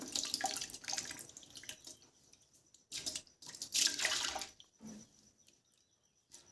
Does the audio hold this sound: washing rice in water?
yes